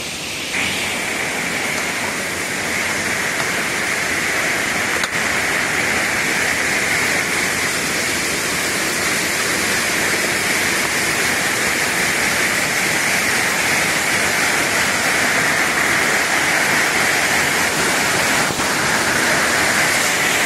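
Kaniya Falls near Udane, with water spilling across the road, roars in a loud, continuous broadband rush that stays constant throughout, with no voices.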